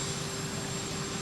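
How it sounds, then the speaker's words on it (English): V-22 Osprey tiltrotor aircraft sit with engines running and rotors spinning at Palm Beach International Airport, a steady, even turbine roar with a thin high whine, continuous and moderately distant. "the Ospreys, I don't know if you can hear, but they are ready to go. The engines are on. The rotors are spinning."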